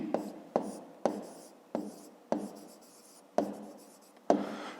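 A pen writing on paper during a fifth-grade maths exercise gives a series of about eight short scratchy strokes in an irregular rhythm, close and clear with no talk over them.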